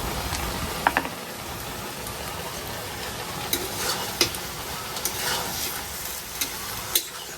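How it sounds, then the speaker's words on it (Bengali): Bottle gourd cooks in a pan with mustard paste, a steady close sizzle broken by occasional light clicks and scrapes of stirring. "সর্ষে বাটাটা দিয়ে দিলাম লাউয়ের মধ্যে"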